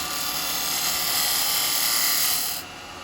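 A woodturning gouge cleans up the rim of an elm bowl spinning on a lathe, giving a steady, bright whirring hiss of cutting that eases off toward the end.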